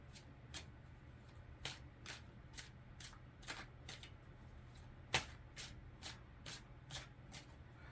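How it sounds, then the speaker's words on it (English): Tarot cards being shuffled and pulled from the deck, a steady run of crisp, close card snaps and flicks at an even rhythm over a faint low room hum, with no voices. "I'm going to pull 3 more cards as like a cards of advice, and then pull an oracle for you."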